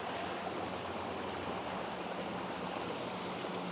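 A mountain creek flows over rocks in a steady, close, continuous rushing wash of water, with no voices.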